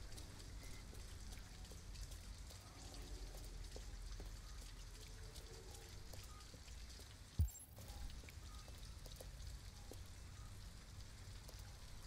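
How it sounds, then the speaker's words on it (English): Steady, faint rainfall hisses throughout a video game scene, with one brief dull thud partway through. "At least we'd be out of the rain."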